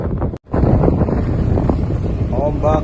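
Strong wind buffets a boat out on high seas, a loud, constant rushing roar with waves underneath, broken by one brief dropout, while a person talks over it.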